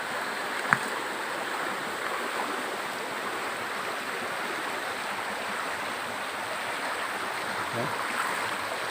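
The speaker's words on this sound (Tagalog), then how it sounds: "Maliit lang na sapa." A small creek, cloudy after rain the night before, flows in an unbroken, even rush of water with one brief click near the start.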